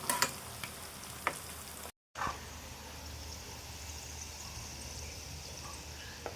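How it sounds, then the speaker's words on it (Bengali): Pan-frying in a home kitchen for a shing fish and pointed gourd recipe seasoned with chilli and salt: a steady, soft sizzle that continues throughout, broken by a brief silent gap and a few faint clinks, with no talking. "আমি এটা এখন ভেজে নেব"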